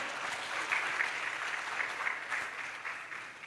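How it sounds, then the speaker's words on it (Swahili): An audience at a women's leadership summit and gala applauds steadily for an honoree. The clapping is continuous and moderately distant, filling the room for a few seconds with no voice over it. "Makofi kwake tafadhali."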